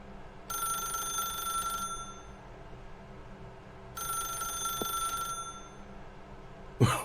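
A telephone rings in the video game The Stanley Parable, two long electronic bell rings separated by a pause, fairly quiet, followed by a sharp clatter at the end.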